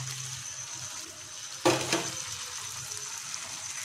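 Jackfruit, fried potatoes and peas with whole green chillies are stirred with a ladle in a pan over low flame, giving a steady faint sizzle that is broken by one sharp scrape and clatter partway through.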